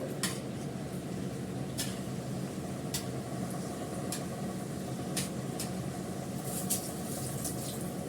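A kitchen chimney exhaust hood runs with a steady, close whooshing roar, while occasional light clicks and clinks from cooking cut through it, and no one talks.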